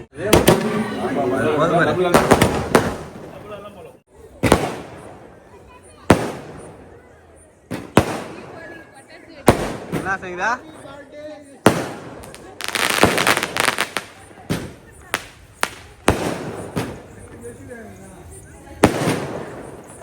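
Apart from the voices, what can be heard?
firecrackers set off for a birthday celebration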